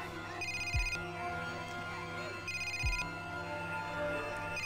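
A telephone rings in the video game Commander Blood, two bursts of electronic trilling ringtone over a humming synthetic game soundtrack.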